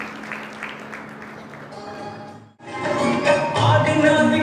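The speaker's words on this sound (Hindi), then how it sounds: "प्लीज जोरदार तालियों के साथ उनका स्वागत कीजिए" A crowd applauds to welcome performers on stage at a Jain religious ceremony in Kandhla, with softer sound at first and then a burst of loud, dense clapping after a brief dip that carries on to the end.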